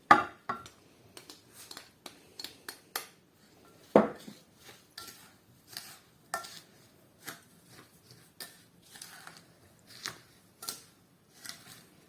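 Viburnum berries being stirred into pie filling in a bowl for a Tatar balan bäleshe pie, giving a string of light clinking and scraping taps in an irregular rhythm, close and fairly quiet.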